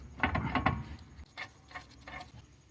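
A bolt is wiggled into the lower control arm of a Toyota Highlander's front suspension, giving a few short metallic clicks and scraping rattles in two bursts, close and fairly quiet, without speech.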